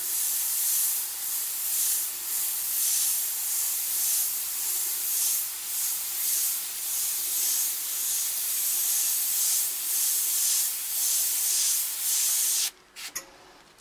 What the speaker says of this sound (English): So as you can see by these spray patterns from here, this is roughly what I can get out of this airbrush.